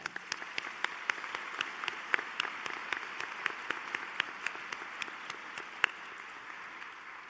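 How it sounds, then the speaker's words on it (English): A small audience applauds at a pharmacy school graduation and hooding ceremony, with sparse, distinct individual claps ringing out at a moderate distance over a quiet room. "Let's give them a round of applause."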